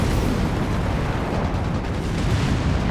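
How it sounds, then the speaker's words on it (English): Tanks explode in Company of Heroes 3 as a dense, loud, continuous rumble of blasts and battlefield noise, with no clear gaps between impacts. "Tanks are exploding left and right."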